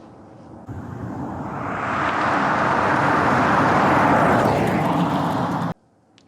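A 2019 Bentley Bentayga in Bentley drive mode cruises along a road, its engine and tyre roar building into a broad, steady rush heard from inside the cabin before cutting off abruptly.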